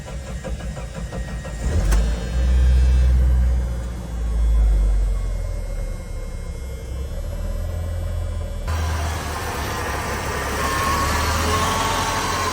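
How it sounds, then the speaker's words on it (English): A manual Dodge Dakota engine idles close up with a rough, wandering low rumble. It surges loudly early on, then settles into a steady uneven idle, with no voices. "the idle's all over the place"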